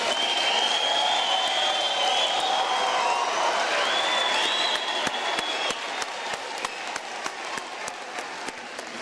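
Graduation ceremony audience gives sustained applause, a dense wash of clapping from a large crowd that holds steady and then thins slightly toward the end.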